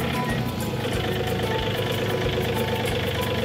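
A vehicle engine runs steadily at low speed while driving onto ramps, a close, rough idling rumble with a faint knocking pulse throughout.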